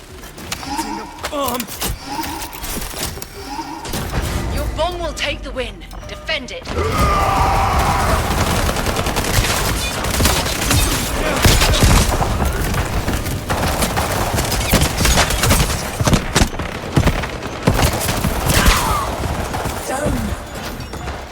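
Heavy gunfire in the video game Highguard, dense, continuous bursts of shots and impacts layered with game noise during an intense firefight, loud and sustained throughout.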